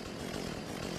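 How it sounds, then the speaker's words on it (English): Chainsaw in the game Unturned, a steady, loud buzzing drone running without pause through the whole short stretch, with no talk over it. "the chainsaw is so obnoxiously loud"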